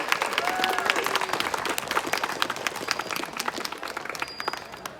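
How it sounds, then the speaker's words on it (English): A magic show crowd at a Renaissance festival claps steadily, a fairly distant, continuous patter of many hands with a few faint voices over it, slowly thinning toward the end. "Give yourselves a round of applause."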